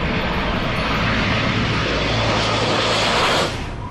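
A military stealth aircraft roaring overhead, a loud, broad engine rush that holds steady and then fades off near the end, with no voices.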